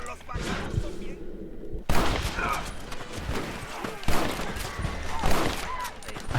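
Gunfire in the video game Red Dead Redemption, with several sharp shots and thuds ringing out over a stretch of ambient game sound.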